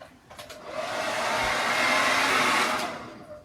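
Hair dryer blowing on a freshly painted door hanger, a close, loud rushing whoosh that swells up, holds for a couple of seconds and then cuts off.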